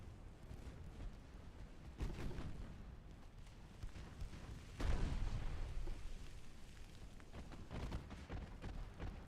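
Heavy naval gunfire in Ultimate Admiral: Dreadnoughts, the Mediterranean battle: deep booming salvos rumble at intervals, one big blast near the middle, under a low, faint battle ambience.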